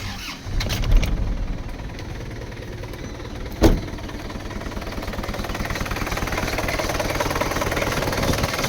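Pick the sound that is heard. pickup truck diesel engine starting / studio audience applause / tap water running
pickup truck diesel engine starting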